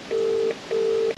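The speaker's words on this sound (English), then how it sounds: "Hopefully he picks up the phone." Two steady, close electronic telephone dialing tones sound in succession, each about half a second long, with a short gap between them and no speech.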